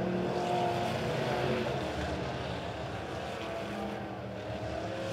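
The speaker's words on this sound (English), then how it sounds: "next group of cars rolling out onto the racetrack" Midwest Modified race cars rumble on a dirt oval racetrack, a steady, dense engine drone from several cars rolling together at moderate distance, holding even throughout without speech.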